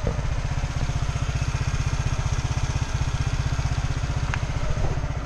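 A QV3 motorcycle engine idles steadily nearby, a fast even low throb with a light mechanical clatter, heard alone without talk.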